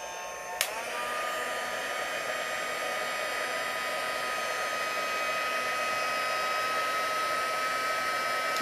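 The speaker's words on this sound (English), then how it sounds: "I want you to see how the heat gun is going to melt the powder" A heat gun blowing hot air to melt powder: a sharp click as it switches on, then a steady, loud whooshing hiss with a high whine that holds for several seconds.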